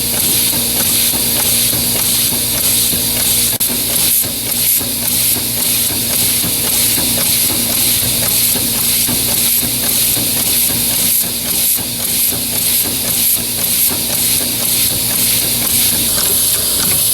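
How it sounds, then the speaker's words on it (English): A compressed-air powered engine runs on a test with its compressor going, producing a loud, steady hiss with rapid fluttering chuffs and a constant mechanical drone, no talking. "as the compressor starts to build pressure, the engine's going to start running fast"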